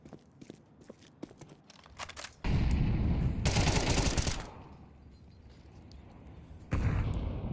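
Gunfire in Counter-Strike 2 during an esports cup match: rapid clicky shots and footsteps give way to loud, dense bursts of automatic fire, then a quieter lull before another burst at the end.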